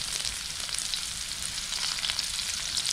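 Ginger sautés in a hot pan while cooking mustard greens with pork, giving a close, steady, dense sizzle that stays loud and continuous with no voices over it.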